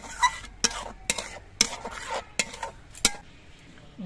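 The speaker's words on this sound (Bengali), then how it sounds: "এবার এই টক দইটা দিয়ে কিন্তু আস্তে আস্তে জাল দিয়ে কষাতে হবে" A spoon scrapes and clinks against a pan while egg masala with sour yogurt and cashew is stirred over low heat, with several sharp separate strokes spread across the clip.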